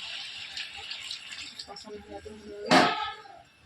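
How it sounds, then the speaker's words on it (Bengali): Water pours into a cooking pot while chicken skin and bread are being cooked, a brief bright gushing splash arriving near the end after a stretch of quieter kitchen sound. "এবার জল দিয়ে দেবো।"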